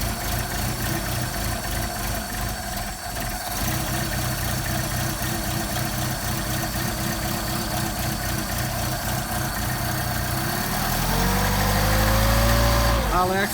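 Mercedes 190SL engine with rebuilt carburetors running at fast idle, a steady loud throbbing rumble throughout that rises slightly near the end, heard up close.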